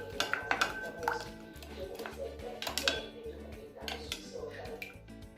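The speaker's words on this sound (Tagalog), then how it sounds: "Ngayon ay idagdag naman natin ang tinadtad na parsley at paghaluin ang mga sangkap." Vegetable and tuna salad tossed with chopped parsley in a bowl, bright clinks and scrapes of a utensil against the dish in an uneven rhythm, close by, beneath a speaking voice.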